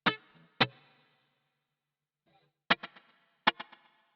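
A clean electric guitar with no chorus effect, through a JC-120 preamp model, strikes a few sharp chords, two early and then two clustered later, each ringing briefly with a slightly edgy tone and silence between.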